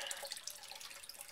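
Water running and trickling into a basement sump during flooding, a steady close splashing wash with small drips and no voices.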